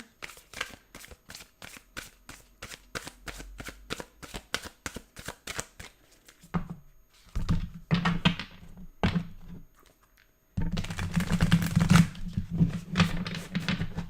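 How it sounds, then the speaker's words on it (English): A tarot deck being shuffled up close: a long run of quick, evenly spaced riffling card snaps, then a pause and bursts of looser card handling and rustling, crisp and fairly quiet. "Let's shuffle up your main deck."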